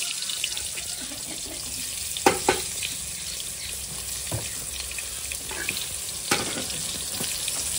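Eggplant pieces fry in hot mustard oil in a large kadai with a steady, moderate crackling sizzle. A few sharp clicks and knocks from the pan and utensil come through on top.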